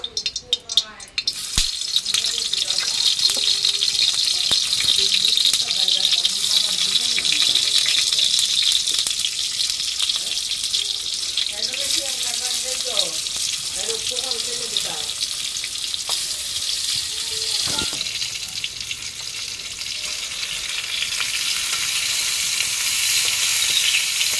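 Turmeric and salt coated eggplant pieces drop into hot oil in a pan and sizzle loudly and steadily for over twenty seconds, with occasional stirring clatter and a faint voice in the background.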